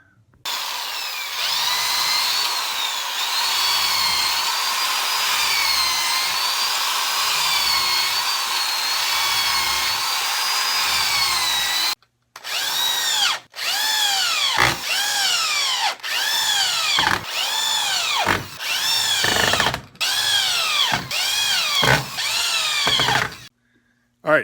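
A power drill bores holes and drives screws into a wooden table leg, first in one long steady whine, then in a run of short bursts with brief pauses and pitch swoops as each screw seats.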